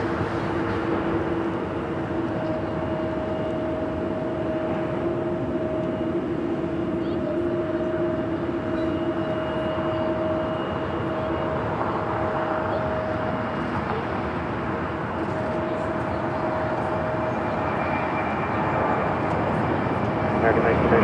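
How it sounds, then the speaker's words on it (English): An American Airlines A321T departing LAX: a broad, steady jet engine roar with a sustained tonal whine, loud and unbroken, with no clear rise or fade across the span. "Next takeoff, American Airlines flight 274 heading to JFK."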